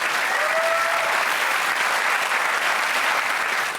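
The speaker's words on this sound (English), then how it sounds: "Let's have a big round of applause for Matt Windle." Audience applause for Matt Windle at a car unveiling event in London, a dense, loud, continuous clapping from a large crowd that holds steady throughout.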